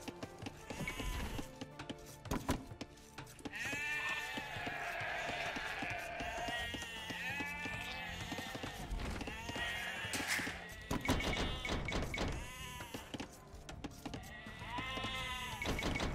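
Sheep bleating in Age of Empires 2, several wavering bleats and calls repeating over a busy game soundscape with thumps and clatter, no talking.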